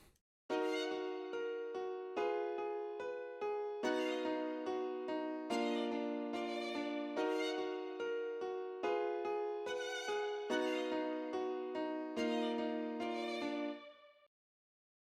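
Violin melody doubled by an octave-higher copy over an FL Studio hard rap beat, steady rhythmic notes with repeated phrases, loud and continuous for about fourteen seconds, no talking.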